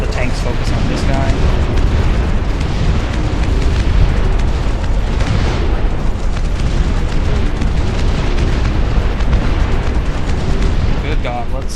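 Tank cannon fire and explosions in the real-time strategy game Dust Front, a dense, continuous barrage of booms and blasts filling the whole stretch at high level, with a voice talking over the battle.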